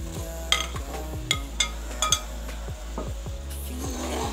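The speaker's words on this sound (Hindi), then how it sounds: "2 मिनट तक इसको भी मसाले में भून लेंगे ताकि आलू के साथ मसाला हमारा अच्छी तरह से लग जाए" Fried potatoes are stirred through sizzling masala in a pan, with a spoon repeatedly scraping and clinking against the metal over a steady low fry.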